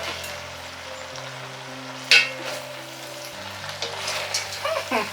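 Spring onions stir-fry for chow mein over low heat, a soft, continuous sizzle close by, with one sharp clink and some scraping stirs near the end.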